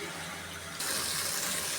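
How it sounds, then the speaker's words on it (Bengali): Water pours steadily into a pan of potato, snake gourd and shrimp curry in a continuous rushing stream, starting quieter then swelling louder partway through, close by with no talking. "এখন আমি পানি দিয়ে দেবো"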